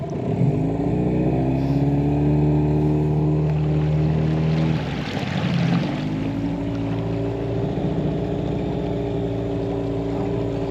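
A two-stroke outboard motor on a small 9-foot inflatable boat on an urban river runs steadily and loudly with a strong harmonic drone. Its pitch dips briefly midway and then settles back to a steady hum.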